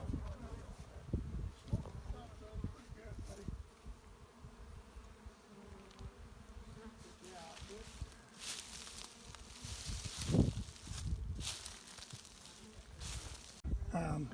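Honeybees buzz continuously around a hive brought home by a family, a faint, close hum with rustling and handling noises, and people talking quietly nearby.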